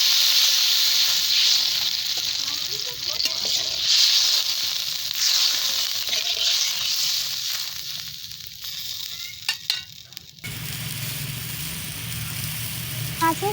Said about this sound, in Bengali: মাছের ঝাল ফুটতে শুরু করে দিয়েছে।